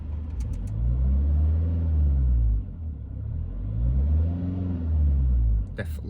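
A car fitted with a sports air filter, heard from inside as the engine rumbles and rises in pitch under throttle in two accelerating surges, with a voice briefly audible.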